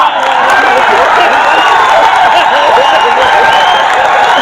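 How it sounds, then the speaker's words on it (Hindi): Dense, sustained applause and crowd noise from an audience clapping with both hands raised at a late-night Hindi kavi sammelan poetry gathering, loud and continuous with voices mixed in. "क्या दोनों हाथ खड़े करके ताली बजाइए।"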